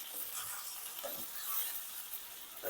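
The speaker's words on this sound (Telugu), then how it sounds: "ఒకసారి ఇలా కలిపేసుకోవాలి" Brinjal being stirred with coconut chili powder in a hot pan, a soft continuous scraping and sizzle, close and steady with no voices.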